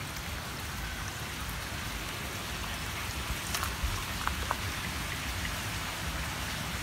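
Water pours steadily from its source into a tilapia fish pond, a constant hissing, splashing wash at moderate level with a few faint clicks, no voices.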